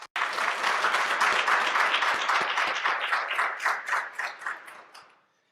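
A crowd at an Army ROTC commissioning ceremony applauds two new commissionees, a dense sustained burst of many clapping hands that swells, then tapers into a few scattered claps and fades.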